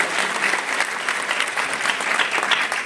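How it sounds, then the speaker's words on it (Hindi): An audience claps loudly and steadily at a film poster, song and teaser launch event, a dense continuous burst of applause lasting a few seconds. "आप कितनी तालियां बजा सकते हैं।"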